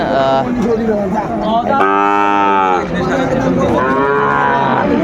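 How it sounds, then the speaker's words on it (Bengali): A Sahiwal bull moos loudly and close by, two long drawn-out calls with a shorter one between, over faint background chatter. "রানা ভাইকে গরুটি দেখছেন"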